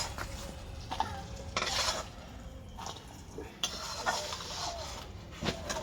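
Neem leaves and eggplant frying in oil are scooped out of a pan, with scraping and clinking of a utensil against metal over a faint, steady sizzle.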